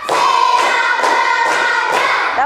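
A fourth-grade class claps together in a counted rhythm, a few sharp group claps spaced about half a second apart, while children's voices chant loudly and continuously over them.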